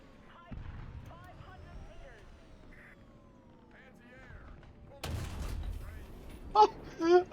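A tank cannon booms in an armored-combat video game, a sudden heavy blast following quiet engine rumble and faint voices, with a burst of sharp effects trailing after.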